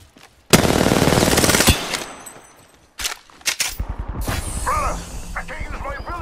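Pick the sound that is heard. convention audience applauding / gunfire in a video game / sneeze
gunfire in a video game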